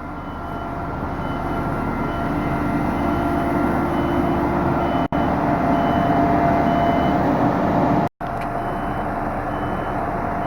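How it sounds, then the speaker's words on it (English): A truck loaded with signs idles and pulls up outdoors. Its engine rumbles steadily, with faint reversing-style tones in the background and two brief dropouts in the sound. "now I have a truck with a truckload of signs, it looks like, pulling up"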